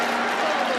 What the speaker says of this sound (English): And no wonder the crowd are applauding